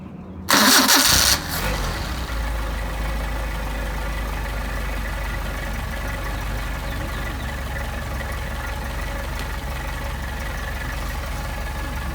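Mercedes 190SL engine with Solex carburetors cranking and catching with a loud burst, then settling into a low, steady idle rumble that continues close and unbroken with no talking.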